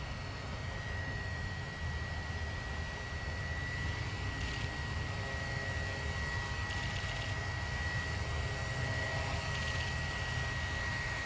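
A small Walkera V120D05 flybarless RC helicopter flies 3D manoeuvres outdoors in wind, giving a continuous high-pitched rotor and motor whine with a steady, unbroken drone throughout.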